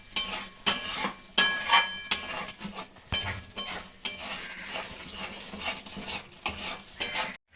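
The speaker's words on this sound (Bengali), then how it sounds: "পুরো নাড়তে থাকবো, পাক করে নেবো আমি।" Food being stirred in a pan with turmeric powder and salt: repeated metal scrapes and clinks of a utensil against the pan over a soft sizzle, close by and uneven in rhythm, with no voices.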